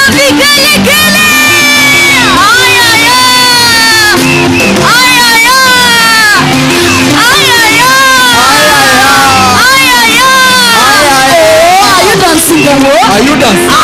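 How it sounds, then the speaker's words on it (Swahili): A loud crowd at a graduation ceremony cheers and ululates, with rippling high trills and shouts rising and falling continuously, dense and close, with voices overlapping throughout. "Wesaweka shangwe na vigelegele"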